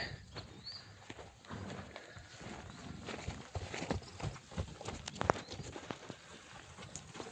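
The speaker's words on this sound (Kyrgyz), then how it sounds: "Мына тор бээлерди караңыздар, туугандар." Large bay mares walking at a horse sale, their hooves clip-clopping faintly and unevenly at a distance over a soft outdoor background.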